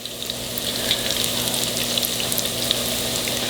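Hush puppies deep-fry in a pot of hot oil, giving a steady close-up crackling sizzle with scattered pops over a low constant hum.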